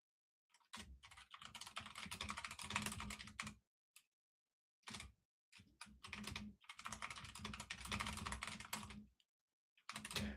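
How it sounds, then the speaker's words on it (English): Rapid clatter of fingers on a computer keyboard comes in quiet bursts of a few seconds each, separated by short silent pauses, with nobody speaking. "Sorry, I'm just typing this up."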